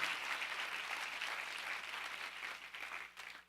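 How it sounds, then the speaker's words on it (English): A church congregation claps together in a sustained, fairly faint burst of applause that fades slightly toward the end, with no voices standing out. "clap your hand, clap your hand, clap your hand"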